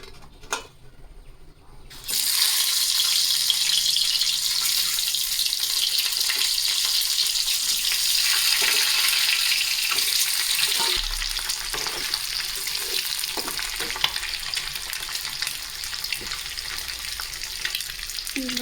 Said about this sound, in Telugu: కొంచెం మెల్లిగా ఫ్రై చేసుకున్నాము